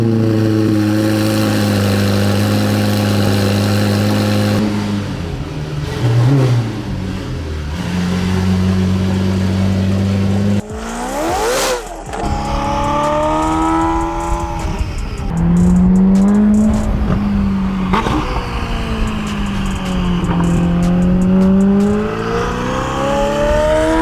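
A Ferrari F8 Spider with a loud aftermarket exhaust drives on a test run, its engine droning steadily, then revving and surging through gear changes, close and prominent throughout.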